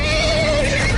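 A horse whinnies loudly and close in a Game of Thrones video game scene with a horse stampede, one sustained neigh over a thick rumble of trampling.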